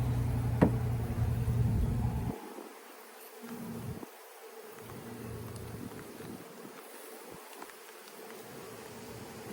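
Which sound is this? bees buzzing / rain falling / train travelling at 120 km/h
bees buzzing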